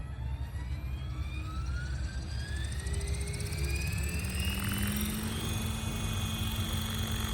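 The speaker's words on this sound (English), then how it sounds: "Man, what a beautiful helicopter." A 12S Synergy 696, a 700-size RC helicopter, hovers outdoors with a steady, even whine of its rotors and motor, rising and falling slightly in pitch, with no voices.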